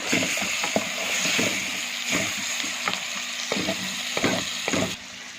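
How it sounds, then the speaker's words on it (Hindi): Chicken with yogurt frying in a karahi gives a continuous close sizzle, broken by scraping stirs and clinks of a spoon against the metal pan. It stays loud throughout and drops off near the end. "ये देखिए, हम अब इसको भून रहे हैं।"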